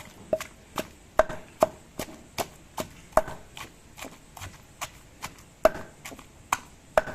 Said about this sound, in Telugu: ఈ విధంగా మీరు ఉల్లిపాయలు అనే వాటిని దంచుకోవాలి